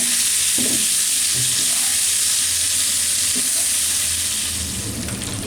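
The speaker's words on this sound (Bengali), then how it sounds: "এখন এই ডিম আর আলুগুলাকে দিয়ে আমি একটু ভেজে নিব" Eggs and potatoes frying in hot oil for a Bengali alu dim curry, a steady dense sizzle with a few soft stirring scrapes and knocks, close and constant throughout.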